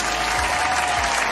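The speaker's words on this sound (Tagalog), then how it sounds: "Palakpak naman dyan." Crowd applause, a dense continuous wash of clapping from many hands, loud and steady throughout with no voices.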